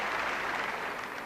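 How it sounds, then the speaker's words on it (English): Sympathetic applause from the crowd at a 1984 men's European singles badminton final in Preston, a steady broadband patter of clapping filling the short moment at moderate distance with no voices over it. "With some sympathetic applause."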